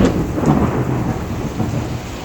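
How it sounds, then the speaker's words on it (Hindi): Thunder rumbles through a steady downpour of heavy summer rain in South Africa, a continuous loud wash of rain with a deep roll of thunder at the start, with no voices. "बारिशें इतनी ज़्यादा हो रही हैं कि काम भी जो है ना वो ठंडे पड़े हुए हैं।"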